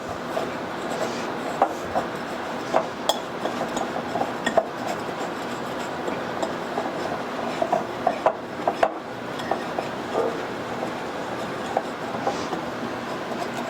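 Brown sugar and other coffee cake ingredients being mixed in a bowl, giving a steady close scraping rustle punctuated by irregular light taps and clicks of the utensil against the bowl.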